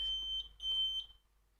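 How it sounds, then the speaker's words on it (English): A blood analyzer running its self-test gives a steady high electronic beep, broken by two short gaps, then stops, over a low hum from the machine, with no talking. "Beep beep."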